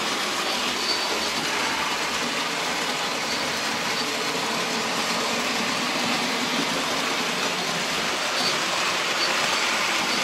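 Hornby Dublo OO model train with a three-coach articulated set running continuously, a steady broadband rolling rumble with faint clicking, even and close throughout, no talk.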